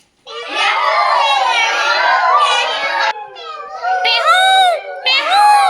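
A group of children loudly imitates a peacock's call, letting out long, rising and falling cries together, then shorter sweeping calls.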